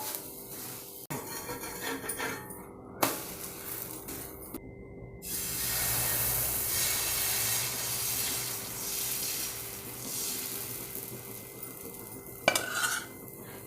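Dosa cooking with a little oil on a hot pan, a soft continuous sizzle punctuated by sharp clinks and scrapes of a utensil against the pan, close and fairly quiet.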